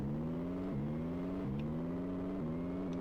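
A car drifting in a video game mod, its engine holding a loud, steady drone with repeated sharp pitch drops as it shifts and slides around the docks.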